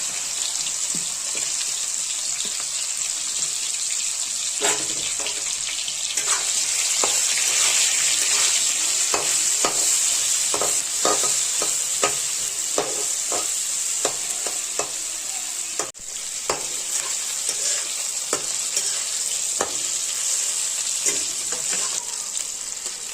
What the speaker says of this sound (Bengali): এখন আমি তেল গরম হয়ে গেছে, ভিন্ডিটাকে অল্প ভেজে নিব